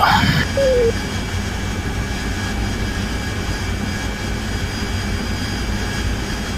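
A jet aircraft taking off in the DCS World flight simulator, its engine holding a loud, steady roar with a high whine running through it, after a brief chirp at the start.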